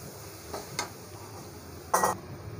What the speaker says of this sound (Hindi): अब हम इसमें बादाम को ऐड करेंगे और इसे अच्छे से मिक्स करेंगे।